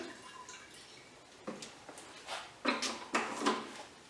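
Fuel stabilizer poured from a small squeeze bottle into a snowblower's fuel tank, heard as a few short, quiet splashy trickles and gurgles growing denser toward the end, close up in a quiet space.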